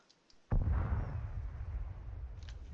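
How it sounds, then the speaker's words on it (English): Distant artillery fire in the military video game Arma: one deep boom lands after a short quiet, then rolls on as a long, low rumble that fades slowly. "It looks like we have some artillery firing in that direction"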